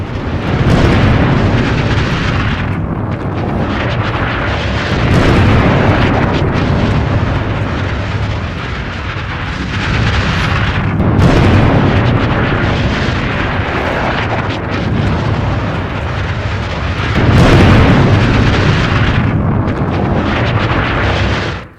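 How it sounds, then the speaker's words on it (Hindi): Strikes in Lebanon set off a series of heavy explosions: four deep, rolling booms about five to six seconds apart, loud and close, with a continuous roar between them and no talking. "दूसरी तरफ इजराइल ने 100 धमाके किए हैं लेबनान में।"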